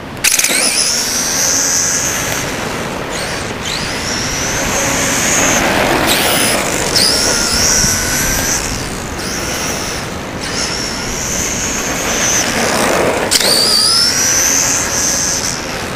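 A Traxxas T-Maxx RC truck converted to a brushless electric motor drives outdoors, its high motor whine rising and falling in repeated bursts as it accelerates, close and fairly loud against steady background noise.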